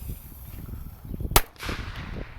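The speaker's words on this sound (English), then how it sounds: "this is the Outlaw Buster firecracker. There it goes." An Outlaw Buster firecracker detonates outdoors with a single sharp, loud bang, its crack followed by a brief decaying rumble over steady background noise.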